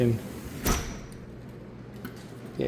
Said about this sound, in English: I'll shut this door